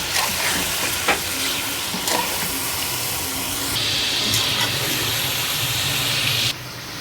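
Chicken and ginger garlic paste fry in a karahi for white chicken karahi, a loud steady sizzle and hiss with occasional spatula knocks and stirring scrapes, the hiss briefly brightening then easing near the end; no voices.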